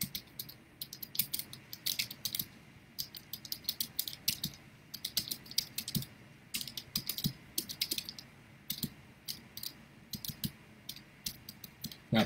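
Typing on a computer keyboard, a steady run of quiet, close key clicks in irregular bursts and pauses, with occasional sharper taps and no talking.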